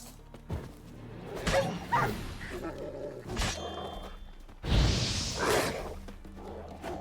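Dogs in The Witcher 3 bark and snarl in several loud bursts amid combat noise, with growling and rough whimpering between the attacks.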